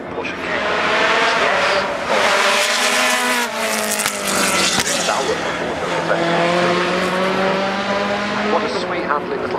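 A new Ariel Atom accelerates hard up the Goodwood Festival of Speed hill in 2014, its loud engine rising steadily in pitch through the gears as one continuous close roar.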